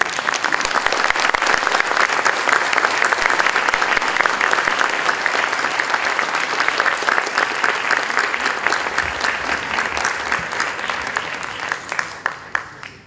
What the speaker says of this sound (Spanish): les ruego a todos que le den un fuerte voto de aplauso